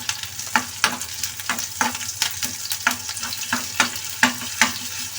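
Onions frying with ginger-garlic paste and curry leaves for egg bhurji, a steady close sizzle broken by regular scraping strokes of a spatula across the pan, with no voices.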